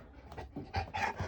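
Dogs pant close by in short, quick breathy bursts that build louder toward the end, with no voices.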